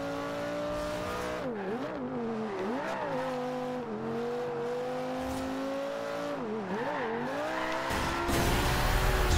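Brian's GTR in a Fast and Furious racing game pulls a nitro drift: a high, sustained engine whine that warbles and dips as the tires squeal, then a louder rushing burst of nitrous near the end.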